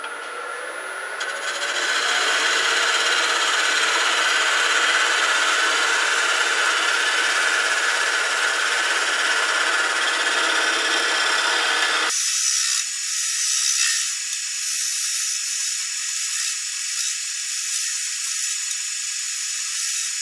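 Sanding a wooden tool handle makes a continuous, loud rasping scrape that holds steady, then shifts to a thinner, higher rubbing sound with faint rattles partway through.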